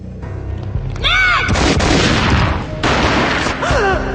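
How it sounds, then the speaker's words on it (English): Gunfire in the Max Payne mobile video game: heavy, booming shots and blasts layered with sweeping whooshes and rumbling game effects, loud and close, with short gaps between bursts. "A gunshot boomed and she fell down in slow motion."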